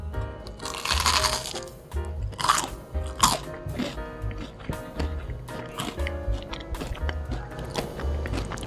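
Someone bites into a warm McDonald's taro pie. Loud, close crunches are followed by crisp chewing and crackling of the fried crust in uneven bursts, with no speech.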